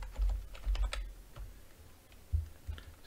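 Quiet, uneven keyboard clicks and taps come from a player during a solo Bed Wars video game match, with short bursts of keystrokes and soft thumps spread across the moment.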